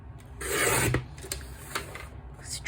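Card edge trimmed off with a cutting tool while making a men's card, a close, steady rasping scrape of blade through card lasting a couple of seconds with small ticks afterward, heard alone.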